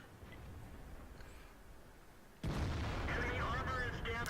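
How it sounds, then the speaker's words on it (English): A tank gun shot strikes a T-62A in the World of Tanks video game, with a loud, sudden boom at once followed by a sustained roar of impact and engine noise over a steady game-audio background. "So we put in a beautiful shot there into the T-62A."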